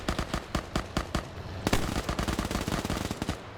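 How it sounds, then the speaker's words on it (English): Rapid automatic gunfire in a WW2-era Middle East combat game during an OFCRA PvP match, dense rhythmic bursts of loud shots with sharp cracks and a heavy continuous volley in the second half. "Got Unknown here firing at him."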